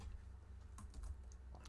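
Fast clicks and taps on a computer keyboard while entering event details into software, in short irregular bursts with the loudest clusters near the end, faint and close over a steady low hum.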